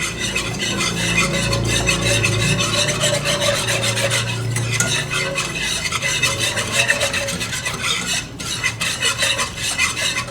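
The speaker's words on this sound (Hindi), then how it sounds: "और इसको अच्छी तरीके से मिक्स कर लेंगे ताकि इसमें लम्स नहीं बने" Milk and sugar mixture for kunafa stirred steadily in a pan over medium heat, a continuous loud scraping and rasping of the spoon against the pan bottom with a light simmering hiss.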